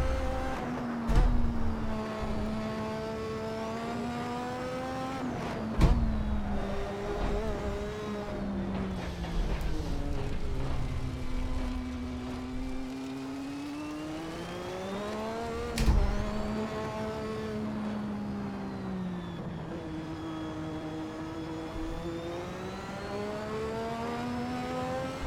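A Lotus 98T Formula 1 car drives around Brands Hatch in a VR racing game, its engine droning steadily. The engine pitch rises and falls as it revs, with a few sharper bumps along the way.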